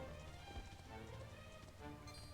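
A horse gallops in the video game Dragon Quest XI S, quick rhythmic hoofbeats clip-clopping steadily at moderate volume under a dense musical game backdrop.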